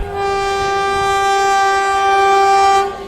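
A departing train sounds one long, loud, sustained horn blast for about three seconds, rich and steady, over a low rolling rumble that fades at the end, with no speech.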